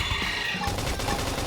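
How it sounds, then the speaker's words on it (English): Dense burst of rapid gunfire from the video game Xenoblade X, a continuous crackling volley with a sharper surge about halfway through, with no voices over it. "Gunfire."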